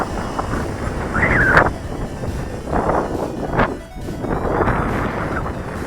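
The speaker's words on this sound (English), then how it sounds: "Okay, the wind just kind of came up." Outdoor wind buffeting a microphone in steady gusty rumbles across a flying field, close and moderately loud, with a faint higher whine from a small hexacopter drone briefly audible.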